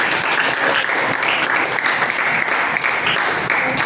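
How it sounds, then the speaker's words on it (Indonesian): A classroom of children claps together in steady, continuous applause after a lesson, dense and fairly loud throughout with no pauses. "Tepuk tangan untuk kita semua."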